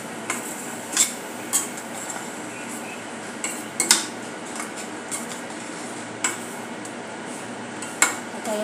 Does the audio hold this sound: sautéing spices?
yes